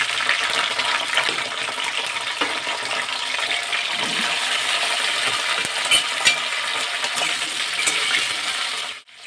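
Small chopped cauliflower pieces dropping into a hot pan for samosa filling, a loud burst of sizzle with clattering and scraping that continues steadily, then stops abruptly at the end.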